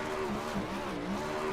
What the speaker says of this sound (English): We watch this 20 car burn it down here at the start-finish line